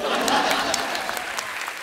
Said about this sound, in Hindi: पलक मुचल जी के लिए जोरदार ताली।